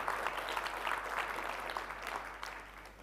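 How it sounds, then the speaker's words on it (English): Audience applause at an innovation award competition for e-commerce and fintech, a steady wash of clapping from a crowd in a hall, moderately distant and tapering off toward the end. "I think some applause for the new car would be a very good idea."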